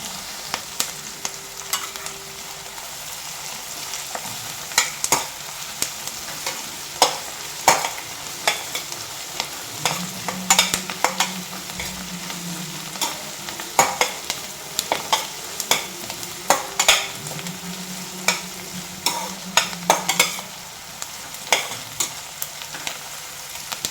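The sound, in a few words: sautéing ingredients in ghee for ghee rice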